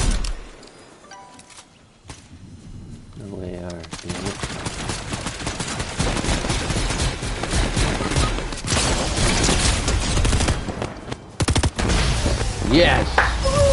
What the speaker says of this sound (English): That heist shotgun was everything.